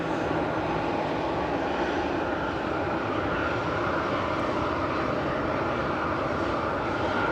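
Airplanes taxi at Manchester Airport, a loud, steady jet engine roar and rumble filling the whole stretch at a moderate distance without fading.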